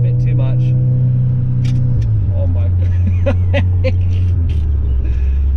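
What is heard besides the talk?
tuned Audi S3 engine revving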